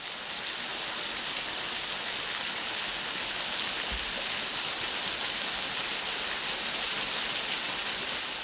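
The Torrent de la Vall, a forest stream, flows in a continuous, even rushing hiss of water, steady and unbroken with no voices.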